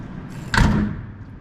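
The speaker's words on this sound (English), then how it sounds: "Do you hear how nice that door clicks?" The door of a rust-free vintage Mack B Model tractor truck shuts with a single soft, solid click-thud, close by, over a low background hum.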